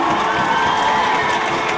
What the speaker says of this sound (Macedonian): Да чујам аплауз на нив.